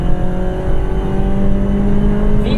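Remapped Honda Civic Type R FD2 engine revving hard into VTEC, a loud sustained mechanical whine and rasp with steady rising tones, heard close and alone.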